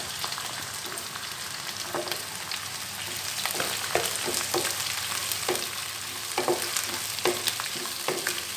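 Onions fry in oil in a pan with browned garlic and green chilies for a Punjabi dhaba-style mixed vegetable dish: a steady close sizzle broken by irregular scrapes and taps of a spoon stirring.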